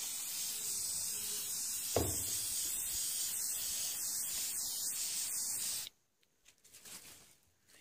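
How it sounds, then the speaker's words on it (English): Aerosol spray varnish hisses steadily onto paintings in a continuous broadband spray lasting several seconds, then cuts off abruptly, leaving a quieter stretch of faint handling noise. "I'll just spray these."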